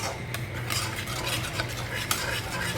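Masala for a Rui fish curry, with chili powder and a splash of water, is stirred slowly in a pan, giving a soft, continuous sizzle under faint scraping and clinks.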